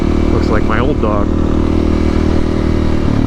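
A Honda CRF300L motorcycle with a loud aftermarket exhaust rumbles at a steady idle up close, while a voice speaks briefly over it early on.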